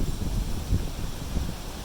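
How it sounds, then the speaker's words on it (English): Strong wind blows outdoors beside a house on Cape Cod after a windstorm, a steady low roar with gusty buffeting against the microphone and no talk. "Still windy as hell."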